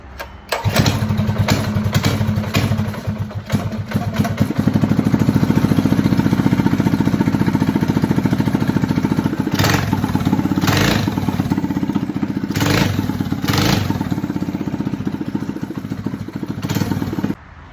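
A motorcycle fitted with upgraded carburetor jets cranks over, catches and starts, then runs loud and close with several sharp revs rising above a steady rough idle, with no talking.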